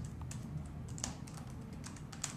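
Typing on the thin, shallow-travel keyboard of a Sony Vaio X Series laptop, a steady run of light, rapid key clicks close up with no voices.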